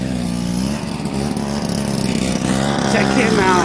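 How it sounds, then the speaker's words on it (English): Snow blower engine running during a snow storm, a loud continuous mechanical drone close by with someone talking over it briefly. "With his snow blower."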